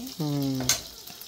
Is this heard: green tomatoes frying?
yes